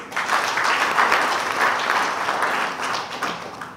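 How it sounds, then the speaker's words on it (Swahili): An audience at a bank's 30th annual shareholders' meeting breaks into sustained, dense applause, an even wash of many hands clapping throughout. "Pigeni makofi kidogo"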